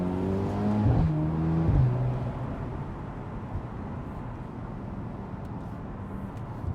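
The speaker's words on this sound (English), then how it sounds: "I'm gonna put my foot down here. We're gonna put it into Sport Plus mode." A Mercedes SL 43 AMG, roughly 400 horsepower and rear-wheel drive, accelerates hard in Sport Plus mode, the engine note climbing through shifts before settling into a steady road and engine roar heard from inside the cabin.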